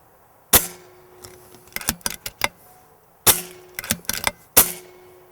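An Air Arms S510 PCP air rifle fires three sharp, close cracks spaced a few seconds apart, with lighter mechanical clicks and clunks of cycling in between.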